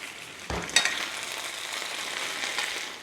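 Garlic hits a hot pan of beef and peppers and sets off a sudden close sizzle, then a steady crackling fry that continues for a few seconds.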